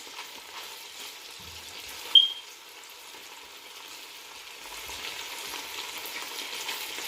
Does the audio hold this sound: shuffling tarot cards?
no